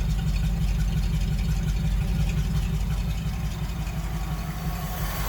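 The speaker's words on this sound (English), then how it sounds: "There's the engine cranking away." A 1958 Dodge Power Wagon W200 3/4-ton truck engine idles steadily close by, a loud, continuous low rumble with an even throb that holds the whole time.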